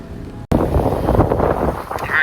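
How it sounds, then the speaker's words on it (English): Gusting wind at a pond during bass fishing rushes loudly across the microphone after a brief dropout, a steady roaring buffet that swells and dips, with a voice faintly underneath. "right as the wind picked up"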